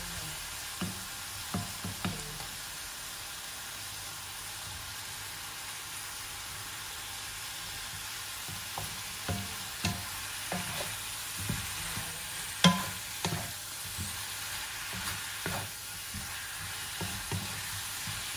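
Shrimp and bok choy sizzling and frying in a hot pan, a steady low crackle broken by scattered louder stir clatters and sharp pops, no talking.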